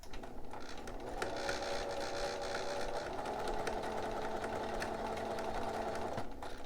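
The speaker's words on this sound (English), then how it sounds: "So I'm going to start at my circles, not doing a back stitch." A sewing machine running a gathering stitch between marked circles on romper fabric, with no back stitch, humming steadily and rapidly up close with slight changes in pitch.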